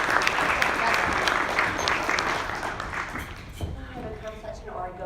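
Audience applause filling a conference room as a speaker is welcomed to the stage, steady clapping that fades out toward the end, with a voice beginning to speak as it dies down.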